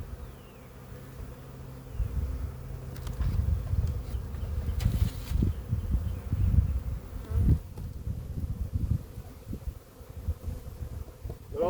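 A swarm of honeybees hums with a dense, steady low buzz, rising and falling as individual bees pass close, with some light wind rustle at the microphone.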